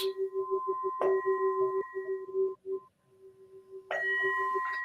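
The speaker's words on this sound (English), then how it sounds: "the timekeeper rings the bell 3 times." A meditation bell rung by the timekeeper at a Zen practice session, a clear metallic ding with a long sustained ring, struck again near the start and once more toward the end.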